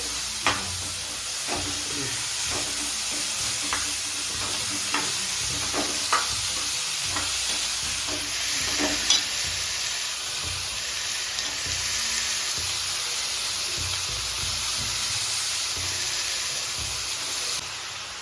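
Vegetables stir-fry in a pan at home with a steady, moderately loud sizzle and hiss. Sharp clicks and scrapes of a stirring spoon come in an irregular rhythm, and no one talks.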